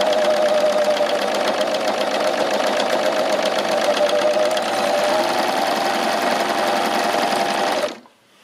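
A W6 N 656 D overlock machine with a bead and sequin foot stitches sequins onto fabric, giving a loud, steady, fast mechanical whirr that runs without a break for about eight seconds and then stops abruptly.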